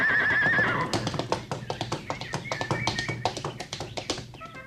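A horse in a radio drama gives a loud whinny up front, then trots off in a rapid, even clip-clop of hooves that continues to the end.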